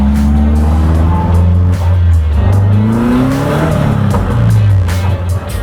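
A Caterham Roadsport on the Zandvoort circuit, its engine loud and close, rising and falling in pitch through gear changes, with a brief tyre squeal, heard from on board.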